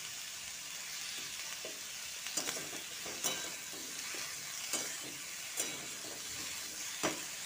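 Beans added to vegetables frying in a pan for a vegetarian pumpkin, radish and spinach dish, a soft continuous sizzle with periodic scraping stirs of the spatula recurring every second or so.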